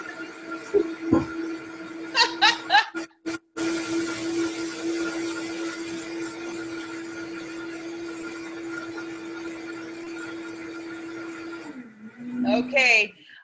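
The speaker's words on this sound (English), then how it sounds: "I don't want to be competing with a blender in the background" A kitchen blender runs for about eight seconds as a steady, loud motor whir while ingredients for a Thai beef salad are blended, with short bursts of voices just before it starts and after it stops.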